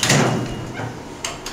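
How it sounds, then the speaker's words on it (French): Door of a filling station being shut while filling a liquid nitrogen container, a loud close thud with a rumble at the start, followed by a couple of softer knocks. "Il faut ensuite bien fermer la porte."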